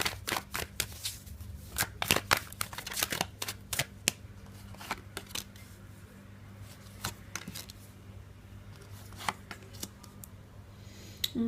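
Tarot cards shuffled by hand for a Leo reading, with rapid crisp slaps and flutters that are dense at first and then thin to sparse, softer taps, close up.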